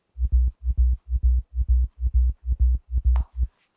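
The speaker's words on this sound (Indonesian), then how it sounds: "Next ada sub bass." Sub bass synth notes repeat as nine round, even pulses, deep and steady, then fall away to near silence, with no talking.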